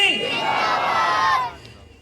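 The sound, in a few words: crowd chanting religious slogans in response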